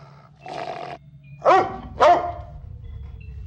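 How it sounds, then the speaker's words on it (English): A puppy in the game Amanda the Adventurer 3 gives three barks, a muffled first one and then two sharp, louder yaps close together, heard clearly over a faint low background. "Look at this sweet puppy."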